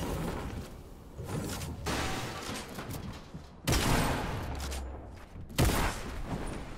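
Gunfire in a Fortnite match, a few sharp shots with whooshes and brief bursts, loud and close, spread over several seconds with quieter gaps between.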